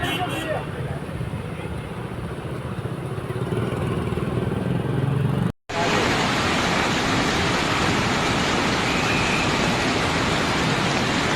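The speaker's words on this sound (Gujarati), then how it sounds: "જૂનાગઢ 5 થી 6 નો વરસાદ આ જોઈ શકો છો લાઈવ" Heavy rain pours during a road trip in Junagadh, a dense steady hiss of downpour on surfaces, loud and continuous, briefly cut off and then returning even stronger.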